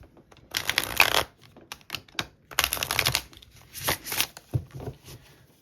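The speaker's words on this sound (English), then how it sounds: "I can try the ritual shuffle like normal." Close-up shuffling of a new deck of Awakening Tarot cards, several crisp riffling bursts separated by brief pauses, with light tapping and sliding between them.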